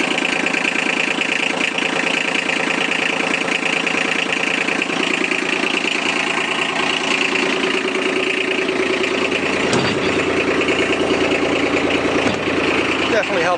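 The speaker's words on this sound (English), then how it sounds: "this diesel is quieter than the previous diesel model Kawasaki" The diesel engine of a 2016 Kawasaki Mule Pro DXT utility vehicle idles loud and close with the bed open, a steady rattling chug with a low knock throughout, one brief clunk partway through.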